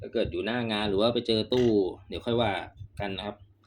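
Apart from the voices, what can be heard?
No everyday noises stand out.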